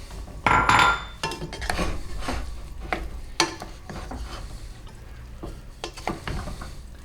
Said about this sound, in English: Just stir it enough that every grain of rice gets covered with the vinegar mixture.